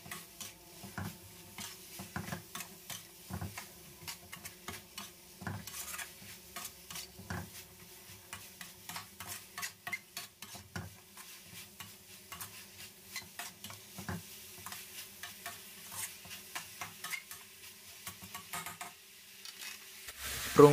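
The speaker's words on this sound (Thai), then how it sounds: "เราก็ผัดไก่จนสุกได้ที่แล้วตามด้วยผักบุ้งแล้วก็ใบมะกรูดที่ฉีกไว้นะครับ ผัดต่ออีกสักเล็กน้อย" Chicken stir-fried with morning glory and torn kaffir lime leaves for a curry-paste stir-fry, with steady sizzling and the repeated scrape and clatter of a spatula against the pan throughout, fairly quiet and close, no voices.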